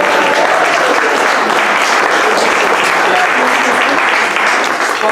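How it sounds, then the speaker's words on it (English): Audience applause fills a hall, dense continuous clapping from a large crowd, loud and steady throughout without a break. "So, can I get a round of applause for my father who's sitting right there in the audience right now?"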